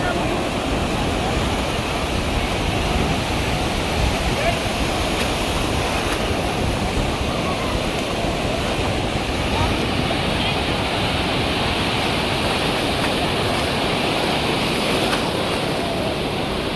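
Sea waves breaking at Diveagar beach on the Konkan coast, a loud, steady wash of surf and wind with no clear breaks between swells.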